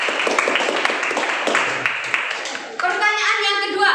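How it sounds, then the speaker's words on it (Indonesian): Children clap for Febri in a classroom, a brief burst of clapping under a teacher's voice, with someone speaking loudly near the end. "Beri tepuk tangan untuk si Febri"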